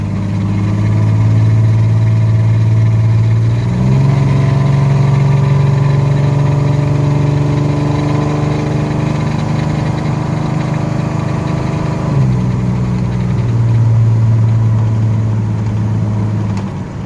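A 1982 Chevy S10 pickup with a 2.8 V6 runs while driving, its steady engine hum rising in pitch, dropping at a gear shift, then settling again, heard continuously from inside the cab.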